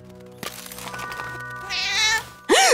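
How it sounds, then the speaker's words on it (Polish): A cartoon cat meows in a rising, wavering cry near the end, coming after a stretch of soundtrack ambience and a brighter musical passage. "Ej, kto przyniósł kota?"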